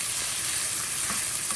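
Bacon browning in a hot pan, a steady close sizzle and crackle of rendering fat with faint stirring, no voices.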